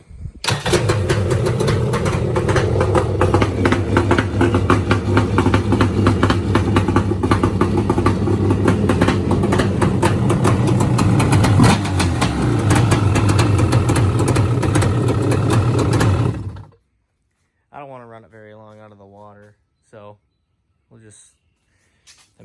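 A small dirt-bike-style engine freshly fitted with a factory B pipe exhaust fires up and idles, loud and close with a rapid raspy pulsing for a long stretch, then cuts off, followed by a few short quieter bursts.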